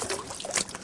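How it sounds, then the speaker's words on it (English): Water is splashed onto a face and hands at an outdoor Victorian farm forge before wheel tire work, giving a short burst of soft, near trickles and splashes. "I'm just putting a bit of water on my face and my hands"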